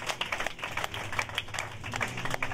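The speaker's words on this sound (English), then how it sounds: "Give Jesus a round of applause." An audience at a debt cancellation and wealth transfer rally claps, a quick, uneven patter of hands with a low hum underneath, moderately loud and continuous.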